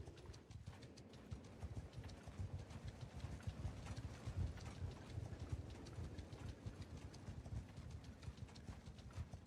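Horse hooves clip-clop steadily and continuously in the Viking raiding game Warsails, a dense, even patter of many hoofbeats close by with no voices over it.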